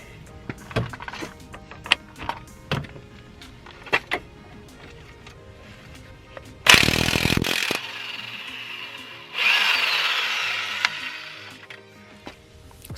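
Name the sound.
power tool loosening a Subaru WRX axle nut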